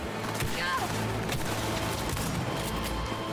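Rifle fire in a video game, an older gun, crackling in dense bursts of repeated shots throughout at steady loudness, with a voice speaking faintly underneath.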